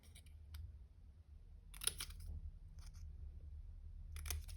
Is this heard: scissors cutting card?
yes